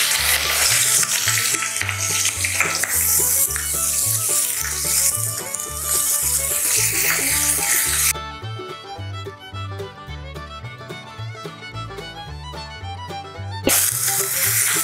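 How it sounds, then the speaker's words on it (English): Green chilies sautéing in a hot pan for a taro, mango ginger curry, sizzling and crackling steadily with occasional stirring scrapes, over rhythmic background music. "saute well"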